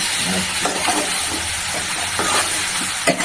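Food fries and is stirred in a pan: a continuous close sizzle with repeated scraping strokes of the spoon against the pan at irregular intervals.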